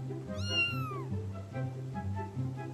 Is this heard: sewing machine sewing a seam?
no